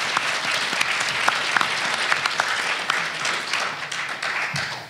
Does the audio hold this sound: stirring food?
no